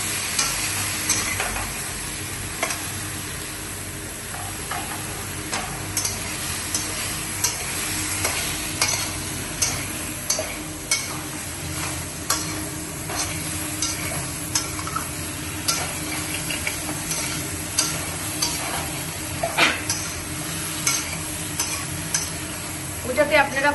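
Ridge gourd and potato pieces frying in a pan, a continuous close sizzle with repeated scraping and tapping of a spatula as they are stirred, steady throughout.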